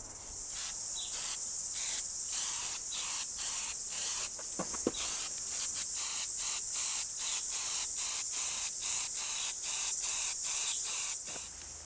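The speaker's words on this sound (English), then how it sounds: "It sprays and penetrates like WD-40, but after a day or so, completely dries." A clear coat penetrating spray, applied like WD-40 to a rusty pillar, hisses steadily and loudly from the can in a continuous close spray with brief pulses throughout.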